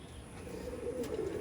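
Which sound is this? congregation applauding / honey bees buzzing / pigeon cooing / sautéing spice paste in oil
pigeon cooing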